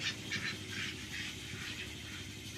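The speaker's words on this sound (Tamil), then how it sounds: "இது வாத்துங்க தான் நல்லா கும்சா கும்சான்ட்டு அடிக்குது" Several ducks quack repeatedly in a noisy, overlapping chorus, close by, with steady background noise.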